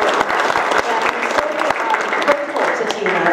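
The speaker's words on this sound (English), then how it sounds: "I think she deserves another round of applause for her leadership" An audience at a town hall meeting applauds, dense clapping from a room of people that continues steadily throughout, close and fairly loud.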